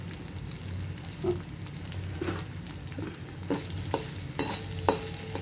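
Sesame seeds, cumin and garlic paste frying in hot oil for a poha mixture: a steady low sizzle with scattered pops and scraping stirs, close and moderately quiet, no talking.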